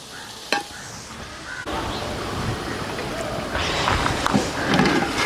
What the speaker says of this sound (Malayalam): നമുക്കിത് നല്ല ബ്രൗൺ കളറായിട്ട് വഴറ്റിയെടുക്കാം